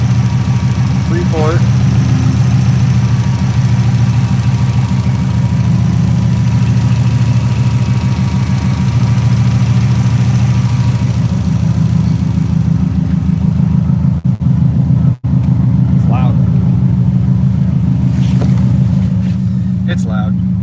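A tuned Subaru, 2004 or 2005, engine running loud and steady at idle close by, a deep constant drone with slight revving changes, while people talk faintly over it.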